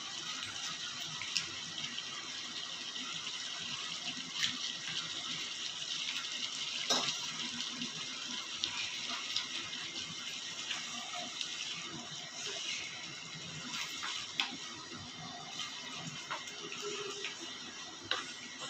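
Salt water being poured into a pan of cabbage while cooking road-side style muttaikose kalaan, a steady hissing, trickling wash with faint scattered ticks and clinks throughout.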